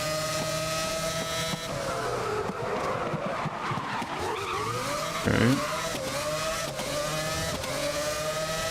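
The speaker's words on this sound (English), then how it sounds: "the engine on this thing is very loud" Race car engine roaring at high revs in the GRID (2019) racing game, loud and continuous with rising and falling pitch and a brief tire squeal midway; one short spoken word.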